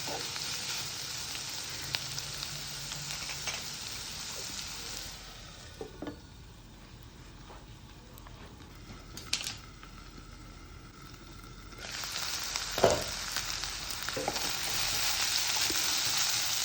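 Onions for a beef stew sizzle steadily in a pot, with occasional stirring scrapes and clicks; the frying quiets for a stretch mid-way, as if covered, then returns louder, close and alone without talk.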